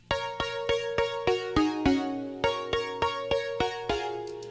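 MIDI main melody and harmony for a pop punk song played together in solo: evenly spaced synthetic notes in two voices stepping up and down, about a dozen bright attacks in steady rhythm, with no talking.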